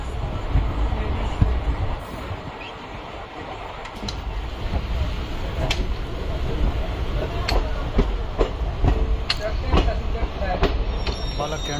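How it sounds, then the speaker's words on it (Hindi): Dadar Express passenger train rolling along the rails between Ambala and Palwal, a steady loud rumble with rhythmic wheel clicks and occasional squeals, continuous throughout. "के बाद अपनी ट्रेन वापस से चल गई है।"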